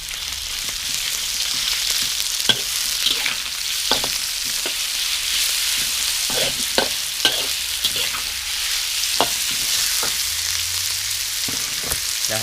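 Pork stir-frying in a pan for Isan-style dry suki: a steady loud sizzle with repeated scraping strokes of a spatula at an uneven rhythm, close up and without any talking.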